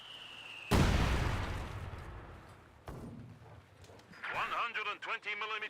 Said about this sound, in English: 120mm mortar now engaging the sheer panzer quarters